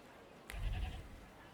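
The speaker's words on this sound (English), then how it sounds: "Let's check the goats a little bit closer." Goats bleat in the farm setting of The Thaumaturge video game, a short bleating burst after a brief click, fairly close and moderately loud, then fading.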